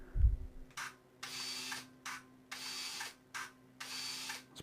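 Yashica T3 Super point-and-shoot film camera firing its shutter in continuous mode, with four evenly spaced bursts of motor whirring and film advance following a soft low thump, close up and clear, with no talking.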